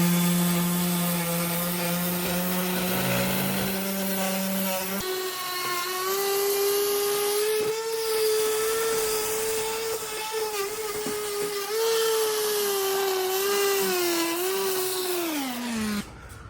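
Power sander grinding down a rusted boat trailer winch mount, a loud steady whine that starts low, jumps in pitch after a few seconds, then holds with slight wavering before trailing off at the end.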